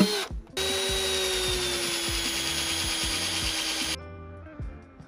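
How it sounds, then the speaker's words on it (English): A power drill whines steadily at high speed for several seconds drilling a cable hole in a Land Rover Defender, then winds down, with a rhythmic ticking underneath and no talking. "So we'll drill a second hole for the cable to run through."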